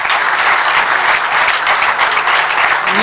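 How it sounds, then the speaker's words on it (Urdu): An audience claps for cricket captain Sarfaraz Ahmed, who led the winning team, with dense, loud, sustained applause that holds steady from start to finish. "سرفراز کے لیے بہت ساری تالیاں"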